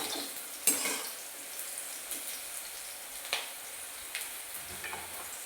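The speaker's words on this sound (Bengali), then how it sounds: "করলাগুলো একটু ভালো করে ভেজে নেবো এই তেলের মধ্যে।" Bitter gourd pieces frying in oil give a faint, steady sizzle, broken by a few light clinks of a utensil against the pan.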